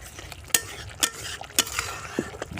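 Ground spice paste frying in a pan for a vegetarian jackfruit and potato curry, with sharp repeated clinks and scrapes of a spatula against the pan over a low sizzle.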